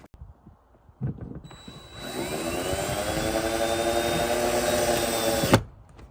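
A power drill drives screws through door weather stripping. The motor whirs up to a sustained, fairly close whine for about four seconds, with its pitch sagging under load, then stops abruptly after soft handling knocks.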